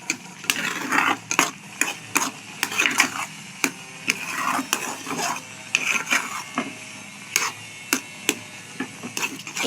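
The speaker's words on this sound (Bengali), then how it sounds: "এবার সবটা দিয়ে মা নেড়েচেড়া করে নিচ্ছে" A pantua sweet mixture is stirred continuously in a pan, with quick, uneven scraping and tapping strokes close by, with no talking.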